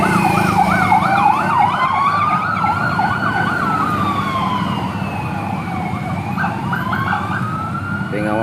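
Several emergency vehicle sirens escort a vaccine delivery through Ambon, wailing and yelping loudly and overlapping one another over a steady rumble of traffic.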